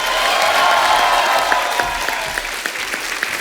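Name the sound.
audience applause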